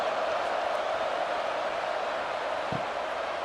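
Stadium crowd noise from EA Sports College Football 26 before a kickoff, a steady, dense roar of many voices that holds evenly throughout without a break.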